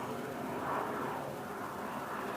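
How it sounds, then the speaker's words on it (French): An airplane passes overhead outdoors as a broad, steady rumbling roar that swells slightly and then holds, with faint talk beneath it. "excusez l'avion"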